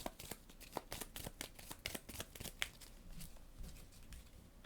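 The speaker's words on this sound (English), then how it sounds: "we're going to get to shuffle this back in and put it on the bottom of our deck" Playing cards being shuffled during a solo game of the board game Leviathan Wilds, a rapid run of crisp riffling snaps and soft slides heard up close, with no voices.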